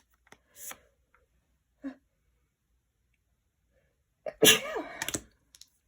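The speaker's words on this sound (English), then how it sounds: "Oh my gosh, I have to sneeze." A single sharp sneeze bursts out near the microphone, preceded by a few quiet breaths and small rustles in an otherwise silent room.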